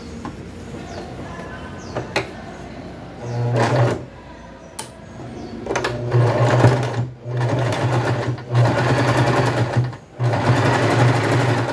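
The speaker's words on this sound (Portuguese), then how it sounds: "vou pra máquina, passo uma costura desse lado e outra do lado de cá" A sewing machine stitches denim bag straps, running close and loud in several sustained bursts separated by brief pauses and handling noises.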